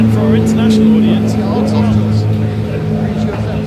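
Race cars approach and pass at the 24H Barcelona endurance race, their engines a steady droning roar that rises and fades beneath continuous close commentary.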